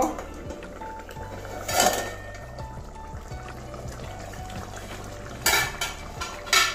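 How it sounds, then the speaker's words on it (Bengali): A lid is lifted off a pot of katla fish curry, giving a couple of sharp metallic clanks against a steady low kitchen hum, with a brief rattle of cookware in between. "এবারে ঢাকনাটা সরিয়ে নেব।"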